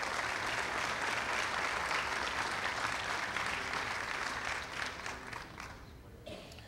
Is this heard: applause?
yes